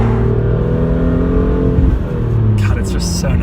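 A manual-transmission car hums along close by, its engine holding a steady note that shifts slightly as it runs, with a person talking over the engine noise.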